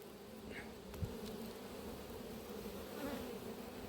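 Honeybees at an apiary hive make a steady, soft, close-up buzz that drones evenly throughout, with a few brief louder passes of individual bees near the ear.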